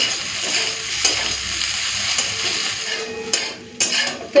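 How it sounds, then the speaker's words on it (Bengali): Soybean chunks fry in hot oil while being stirred, a close, steady sizzle with scraping and clinks of a utensil against the pan, no voices. "সয়াবিনটাকে পুরো লাল করে একটুখানে ভেজে নেবো"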